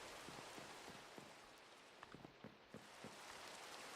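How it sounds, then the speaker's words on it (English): Steady rain patters on surfaces in a survival video game, a faint continuous hiss with scattered soft drops and no one talking. "Great, rain."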